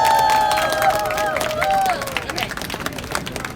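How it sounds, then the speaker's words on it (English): An audience applauds and cheers to welcome a Marshall Islands ambassador at a UN-related gathering supporting Taiwan. A loud, dense wash of clapping and crowd noise is mixed with raised voices, easing slightly toward the end. "Could we please give her a warm round of applause"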